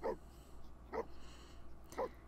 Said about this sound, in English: And look at our little war dogs.